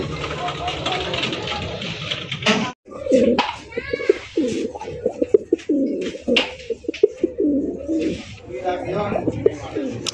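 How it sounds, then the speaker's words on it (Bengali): A pair of large local domestic pigeons coo in soft, repeated rolling calls at close range, with someone talking over and between them and faint engine idling in the background. "দেশি কবুতর মামা, গোল্লা দেখার মতো একটা পেয়ার"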